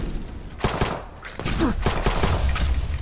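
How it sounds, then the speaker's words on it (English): Gunfire from Fallout London crackles in rapid bursts of several close, loud shots against a busy, noisy background. "Just shoot it in the torso."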